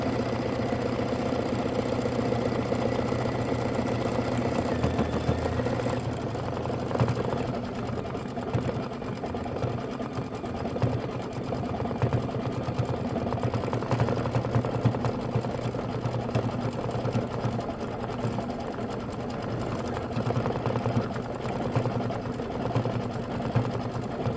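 An embroidery machine stitches a quilt block with a steady, rapid mechanical hum and a rhythmic needle chatter that runs close and unbroken. Light talk occurs now and then over the whirring.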